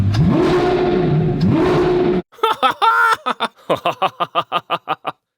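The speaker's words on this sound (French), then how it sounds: "La voiture a démarré." A Lamborghini Revuelto engine fires up and revs hard for about two seconds, rising and falling loudly and up close, then cuts off abruptly and gives way to a quick run of short rhythmic bursts.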